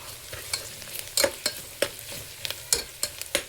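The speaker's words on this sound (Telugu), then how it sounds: "ఉల్లిపాయలు అయితే ఫ్రై అయినాయి. దీంట్లో ఇప్పుడు మనం అల్లం వెల్లుల్లి పేస్ట్ వేసుకుందాం." Ginger-garlic paste frying with onions in a pan for chicken curry: a soft sizzle runs underneath while a spatula scrapes and stirs in quick, uneven strokes, close and clear, with no voices.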